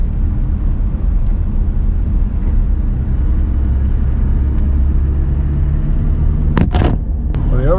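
A Dodge Ram truck cruising in overdrive on a back road at about 30 mph, with a steady low engine and road rumble throughout, loud and continuous, plus a few brief squeaks near the end.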